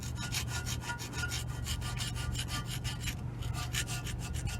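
A gasket scraper drags steadily across a cast iron intake manifold, stripping old gasket material in a continuous rasping scrape with rhythmic strokes. Close and dry, with a low hum beneath and no talking.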